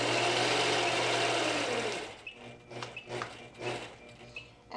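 A quilting sewing machine runs steadily and loud for about two seconds while stitching quarter-inch cross hatching, then stops, leaving quieter handling clicks and soft shuffling.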